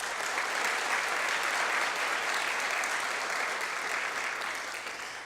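A panel discussion audience gives a panelist a steady, dense round of applause that holds for several seconds and fades slightly at the end.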